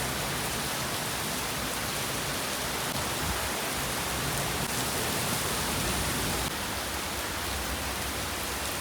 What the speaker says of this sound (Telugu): ఆహా, వర్షం చూసారా?